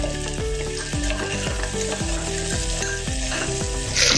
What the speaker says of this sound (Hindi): अच्छे से इसको अभी हम थोड़ा देर पकाएंगे। अच्छे से भुनने के लिए होना अपने मसाले तेल में